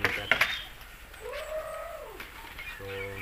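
Soft pigeon coos drift through at moderate distance from a flock kept alongside chickens, a rounded low call rising and falling, with a voice speaking around them and some rustling.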